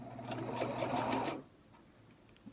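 A domestic sewing machine stitches fabric for a face mask, a steady close mechanical whir that runs for over a second and then stops abruptly, leaving quiet room tone.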